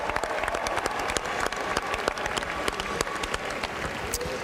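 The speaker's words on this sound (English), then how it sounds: "First, a round of applause for both teams, Georgia Southern and Liberty." A crowd applauds both teams, Georgia Southern and Liberty, at the 2019 Cure Bowl trophy ceremony: steady, dense clapping from many hands, sustained throughout with individual claps standing out nearby.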